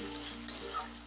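Soaked rice hits a hot frying pan for a Bengali muri ghonto, a brief, quiet sizzle broken by a couple of light stirring clicks.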